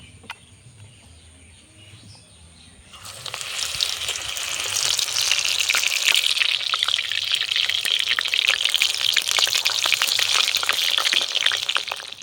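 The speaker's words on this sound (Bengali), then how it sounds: "আমি আবারও একটা একটা করে ফুল ব্যাটারে চুবিয়ে তেলে ছেড়ে দেবো।" Battered pumpkin flowers dropped into hot oil burst into a loud, dense crackling sizzle after a quiet start, then keep frying steadily and close by.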